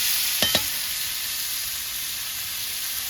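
Chicken frying with onion, ginger and garlic gives a steady, close hiss of sizzling oil, with two quick stirring scrapes near the start and then an even sizzle alone to the end.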